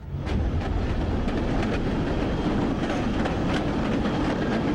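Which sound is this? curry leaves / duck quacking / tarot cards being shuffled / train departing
train departing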